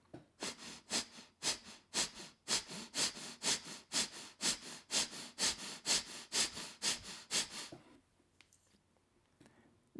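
Forceful breathing exercise with equal-length inhales and exhales: about sixteen loud, sharp, evenly paced breaths close to the microphone, then quiet.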